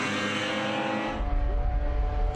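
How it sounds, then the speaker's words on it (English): Porsche race cars with big whale-tail spoilers battle at Laguna Seca, a loud engine whine sweeping past before a deep, rumbling roar takes over close by. "Good battle with big whale tails,"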